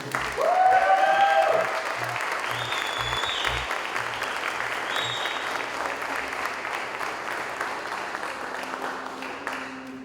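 A church congregation applauds at a Portuguese-language service, sustained and even clapping from many people that carries on for several seconds at moderate level, with a brief voice near the start.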